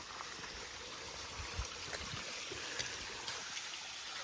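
A small waterfall on a stream in the Ozark mountains of Arkansas makes a steady, soft rushing trickle, close by, with occasional low splashes and no voices.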